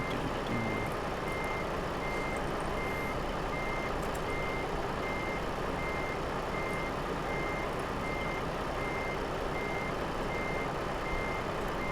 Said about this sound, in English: You guys can listen to all the beeping.